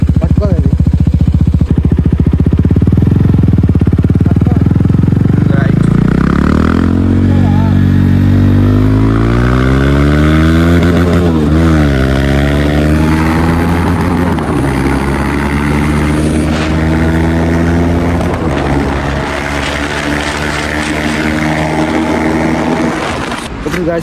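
KTM RC 390 motorcycle ridden without an exhaust, its loud raw engine rising through rapid revs with gear changes and climbing pitch sweeps, close and continuous for the whole stretch.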